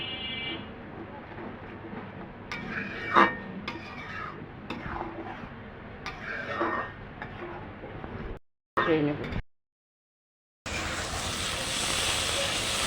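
Spice paste with chili powder and salt stir-fried in a pan for a curry of taro stolons and hilsa fish, with a steady hiss broken by scraping and clinking of a spoon against the pan, cut by a brief silence, then a louder bright sizzle.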